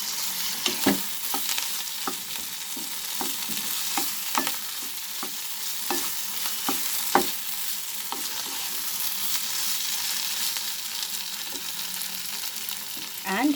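Paneer bhurji sizzling and frying in a pan while being stirred, a steady hiss underneath repeated scraping taps of the spoon against the pan, close and continuous.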